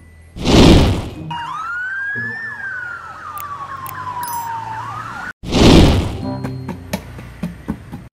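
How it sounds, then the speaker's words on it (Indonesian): A police motorcycle siren wails in a long rising-and-falling sweep, loud and close, bracketed by two brief loud bursts of noise at the start and end, with no talking. "motor polisi"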